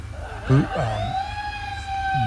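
An electronic coyote howl call imitating a lone female, with a long wavering tone that rises and then holds steady, sounding near and moderately loud, with brief vocal bursts at the start.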